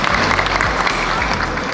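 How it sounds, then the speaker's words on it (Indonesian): Audience applause at a HUT Hanura party anniversary event, a dense sustained wash of clapping with low rumble underneath, moderately loud and continuous throughout. "Tepuk tangan buat saya."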